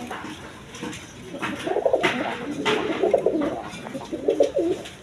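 Pigeons kept for sale by a breeder, large-sized birds, cooing repeatedly in soft, throaty bursts that rise and fall close by, with several birds overlapping against a busy background.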